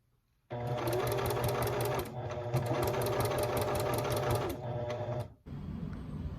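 A sewing machine runs in a loud, steady, close-up rattle for about five seconds, pausing briefly once and then stopping, after which a quieter hum follows.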